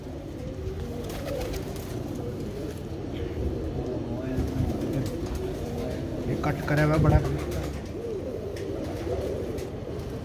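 Pigeons coo in low, repeated throaty calls at a loft, mixed with someone talking over them and some background clatter.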